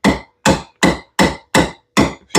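Soft hammer tapping a coconut: six firm, evenly spaced knocks about half a second apart, close and loud, with short quiet gaps between them.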